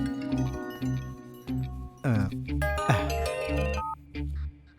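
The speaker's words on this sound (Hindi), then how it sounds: "भाई, टिप्पे को फोन करो।" A melodic electronic ringtone plays in repeated tonal phrases with short gaps, fairly clear and alone.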